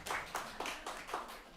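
An audience claps in response to a circus-performers prompt, with distinct rhythmic bursts of handclaps at a moderate, roughly steady pace, heard at a distance and fairly faint.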